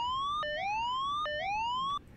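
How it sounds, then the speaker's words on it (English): A cockpit warning alarm sounds during startup of a UH-1 helicopter in the DCS World flight simulator, with two loud, rising electronic sweeps that repeat steadily before cutting off. "silence the alarm there"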